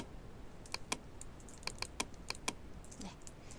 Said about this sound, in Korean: 컨트롤 C 복사합니다.